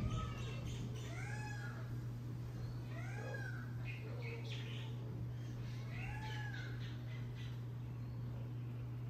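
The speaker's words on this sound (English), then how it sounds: "we just heard peacocks, thunder, birds, dogs, all at one time" Several loud, wailing peacock calls ring out one after another over a steady low hum, with no talking.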